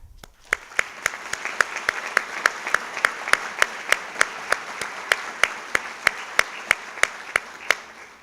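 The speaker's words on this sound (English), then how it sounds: "Please join me in welcoming them with applause" Audience applause at a state governor's awards of excellence ceremony, a soft steady wash of clapping from a crowd with sharp individual claps popping out at a regular rhythm throughout, moderately loud and without talk.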